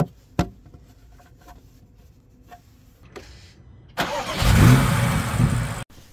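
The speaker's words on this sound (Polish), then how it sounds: "Silnik jak to silnik, pracuje normalnie, chociaż tutaj mocno słuchać pracę wtryskiwaczy." A BMW X5 M Competition G05 LCI with a 625-horsepower 4.4-litre V8: a few sharp clicks in a quiet cabin, then the engine fires with a loud surge and settles into a rough idle before cutting off.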